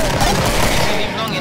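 Gunfire from the video game Killing Floor, a dense, continuous clatter of shots that runs the full length at steady loudness, mixed with other game sounds and talk.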